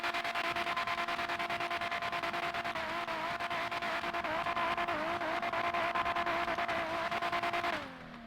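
Straight-piped 2JZ engine of a Supra in a racing game, a loud continuous raspy drone held at high revs with slight pitch wobbles, then dropping off abruptly near the end.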